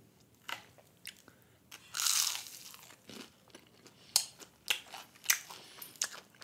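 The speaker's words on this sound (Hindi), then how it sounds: "एकदम क्रंची हो रहे हैं, और जैसे इसको थोड़ा च्यू करो एकदम से ऑनियन का टेस्ट आता है।" Irani chicken samosa with onion filling being bitten and chewed up close. A loud crunchy bite comes first, followed by a series of sharp crunching chews in an irregular rhythm, with no talking.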